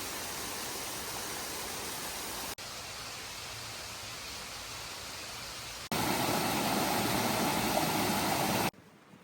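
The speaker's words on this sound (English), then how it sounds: "and you're getting to some waterfall like this" Rushing water from a waterfall and stream beside a hiking trail on Madeira, a steady broadband roar with no voices, its loudness shifting in level partway through.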